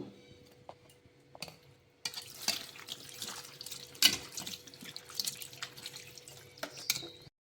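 Tap water running and splashing in a sink as cut morala fish are washed, a close, uneven gush with small drips and clatters.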